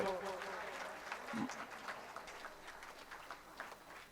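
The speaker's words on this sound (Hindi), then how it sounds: "बच्चों के लिए तालियां बजती रहना चाहिए।" Applause for children at a school prize-giving in an auditorium, a faint, scattered clapping from a crowd, fairly distant, with murmuring voices mixed in.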